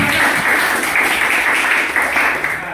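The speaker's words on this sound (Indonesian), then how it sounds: "Tepuk tangan dulu buat Yesi ya" A classroom full of people claps steadily and loudly for a few seconds, a dense continuous applause.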